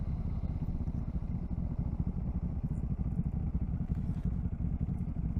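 A Zontes 400G motorcycle engine running while riding on the expressway, a deep steady drone with rapid low pulsing and some road rumble, constant throughout with no voices.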